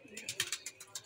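A pigeon hen coos softly nearby, a short run of repeated throaty pulses against faint background noise.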